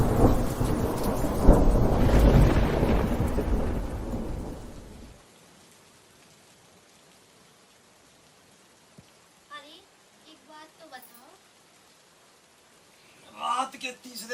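Heavy rain and rolling thunder outside at night, loud and close at first, then dropping to near silence with scattered faint sounds and a brief rise near the end.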